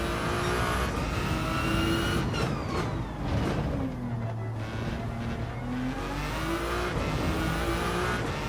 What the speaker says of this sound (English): The sound of this car is wild. This is not what I was expecting from a Ferrari.